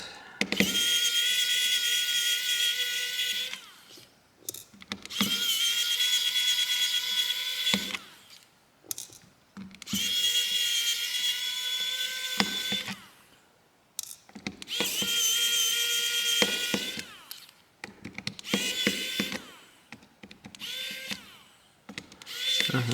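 A power screwdriver backs screws out of an AT&T Verge 2 5G phone during a teardown, a close whirring whine in several long bursts separated by brief pauses, with no talking.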